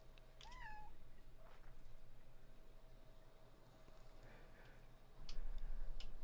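A cat gives a couple of short, faint meows early on over a quiet room hum, followed by light ticking near the end.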